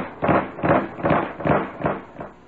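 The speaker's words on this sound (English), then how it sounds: "He's stamping a folder now." A rubber stamp bangs down on a big yellow folder in a 1970 radio piece about army induction, giving five loud, evenly spaced thumps about half a second apart with no talking.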